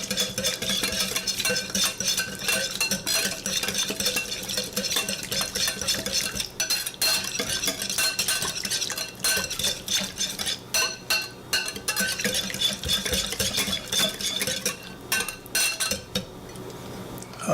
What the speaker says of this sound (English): now using our whisk here, we're going to whisk them all together